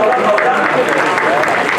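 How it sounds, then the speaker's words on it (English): An audience at a keynote talk claps in a steady wash of applause, moderately loud and close, with a few voices mixed in. "round of applause if you got early"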